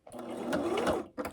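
A sewing machine stitching the edge of a quilted placemat, one short close burst of motor whir and needle clatter, followed by a brief stop and restart.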